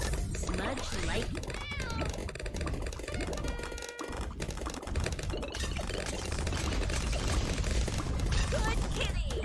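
A cat meows repeatedly in a busy, noisy room, its calls mixed into dense background sound with some talking throughout.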